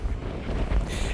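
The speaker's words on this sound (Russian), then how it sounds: "Ветер безумный," Strong wind buffets the microphone outdoors by the water in Doha, a steady loud roar with rumbling gusts and no voices.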